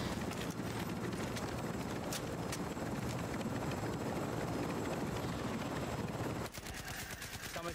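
A video game helicopter thumps and roars loudly and steadily, then cuts to a quieter, thinner sound near the end.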